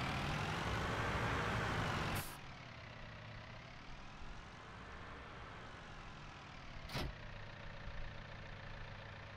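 A tractor engine runs at a steady idle on a hay farm, a continuous mid-pitched drone with a slight change in pitch early on and two brief sharp clicks.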